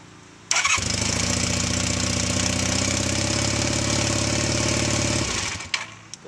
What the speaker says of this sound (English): You start your bike.